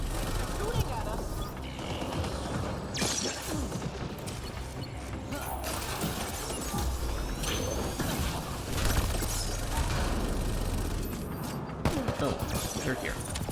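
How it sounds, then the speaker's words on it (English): Mass Effect Andromeda multiplayer combat fills the scene with clattering gunfire, mechanical clanks and impacts, a dense, continuous battle din mixed with occasional player talk. "Shooting at us."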